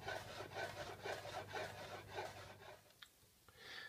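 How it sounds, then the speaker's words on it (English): Knife slicing a cucumber into thin slices on a cutting surface, a quick rhythmic series of soft scraping strokes that ends in a couple of light clicks, close and quiet. "I have my cucumber, which I want to cut in thin slices."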